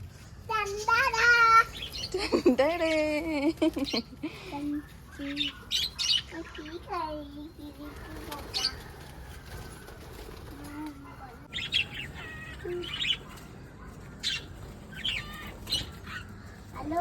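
Pet lovebirds squawk and chirp in sharp, repeated bursts. Wings flap at times, and a voice and other people talk in between. The calls are close and fairly loud.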